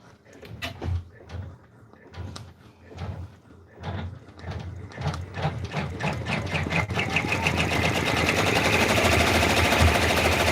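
An in-the-hoop embroidery machine stitches a raccoon stuffed toy, starting with irregular clunks and bursts and then settling after about seven seconds into a steady, loud, fast mechanical whir of needle strokes, with no talk.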